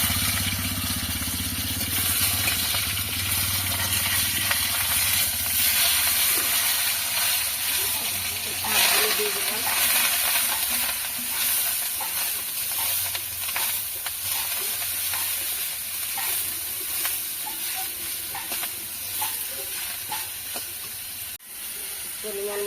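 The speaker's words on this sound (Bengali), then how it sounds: "তেলটা দিয়ে দিয়েছিলাম গরম হয়ে গেছে এখন আমি জিরে দিয়ে দিচ্ছি মাছের মাথাটা দিয়ে দিলাম" Cumin seeds and a fish head hit hot oil and sizzle loudly and steadily, with stirring and a dense hiss that continues close and unbroken to the end.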